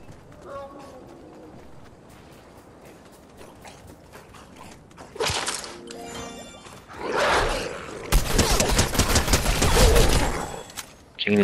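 Gunfire in the Fortnite video game erupts midway as loud bursts and rattling volleys, after a quieter stretch, with a short voice cue at the end.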